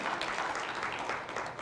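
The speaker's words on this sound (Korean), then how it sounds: "우리 영광의 박수를 다 같이 올려드리겠습니다." A church congregation claps together after a call to glorify God, a dense, steady wash of applause that stays even throughout and fades slightly at the end, with no voices on top.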